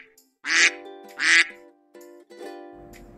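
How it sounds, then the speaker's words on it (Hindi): A duck quacks in three loud nasal calls, the first two sharp and close together, then a longer drawn-out quack, alone with no other sound around them. "डक हिंदी में बोलते हैं बतख।"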